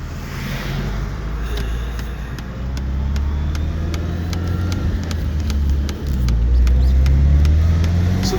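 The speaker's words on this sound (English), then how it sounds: "that turbo spools pretty hard and it works well" A turbocharged car pulls hard on a wet road, heard from inside as a loud, steady engine drone that builds gradually with a short dip near the end, and no talking.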